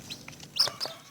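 A chicken clucks in a few short, close bursts against a quiet background, with no talking.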